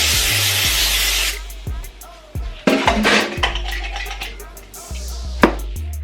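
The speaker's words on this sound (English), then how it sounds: "I'm gonna spray this pan down." A burst of hissing cooking spray onto a pan opens, followed by scattered clicks and clatter of kitchen utensils, with a few more short sprays later on.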